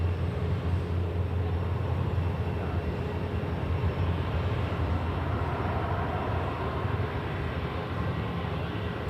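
A jet airliner makes a reduced-thrust flex takeoff at Sydney Airport, heard as an even, broad rumble with no breaks from start to finish.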